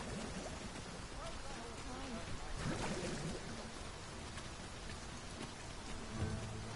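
Steady rain in the video game Dragon's Dogma II patters on surfaces throughout, a soft, constant wash with faint voices murmuring beneath it.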